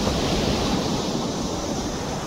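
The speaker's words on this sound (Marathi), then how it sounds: "तुम्हाला लाटांचा आवाज ऐकायला येत असेल" Ocean waves wash steadily onto Velneshwar Beach in Konkan, India, in a loud, continuous roar of surf, with no voices and a faint rush of wind.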